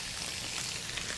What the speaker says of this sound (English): You want to sear the veal to lock in the juices